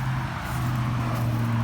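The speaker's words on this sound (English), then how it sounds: "I do live extremely close to a major highway, so excuse the noise" A steady low roar of passing traffic from a nearby major highway fills the air, a continuous road rumble with a humming engine tone.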